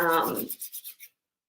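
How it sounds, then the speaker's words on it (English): Hands rubbing together after a couple of drops of essential oil, a close, soft swishing that starts as a steady rub and breaks into four or five short strokes before stopping. "I just put like a couple of drops in my hand, just enough so you can see it, you can feel it, rub it in"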